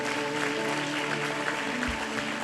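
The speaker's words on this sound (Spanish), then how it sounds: "Denle un aplauso al Señor." A church congregation applauds God during a service, a dense, continuous wash of clapping filling the room at moderate level.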